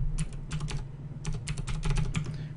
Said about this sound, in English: We're going to type in the IP address.